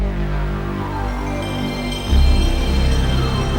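Sony PlayStation 1 console startup sound: a deep, sustained synthesized swell that shifts into a fuller, louder low rumble partway through, with no voices over it.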